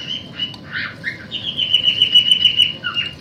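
A pet parrot in the video game Star Stable Online chirps close by, giving several short tweets and squawks followed by a longer warbling whistle, with no talking.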